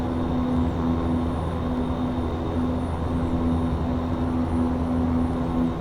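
A small airplane in the X-Plane 11 flight simulator drones steadily in flight, a constant loud engine hum with a sustained tonal whine and no pauses.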